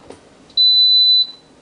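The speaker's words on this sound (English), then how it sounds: "You just get a beep, no other fanfare." Gourmia French Door XL digital air fryer oven giving a single loud, steady electronic beep lasting under a second when first plugged in, close and clear in a quiet room.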